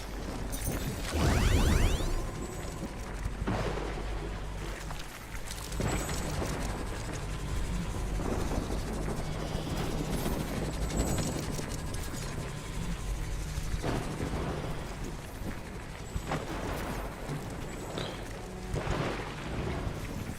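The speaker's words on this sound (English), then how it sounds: "This ion storm is really intense." An ion storm in the video game The Riftbreaker rumbles on as a continuous dense wash of crackling, whooshing noise with intermittent mechanical ratcheting and thunder-like bursts, steady and enveloping throughout.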